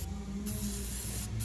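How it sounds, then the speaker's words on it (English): A short hiss of terminal protector sprayed from an aerosol can onto motorhome 12-volt battery connections, two quick bursts close up over a low background hum. "I do like to at least spray it with some terminal protector"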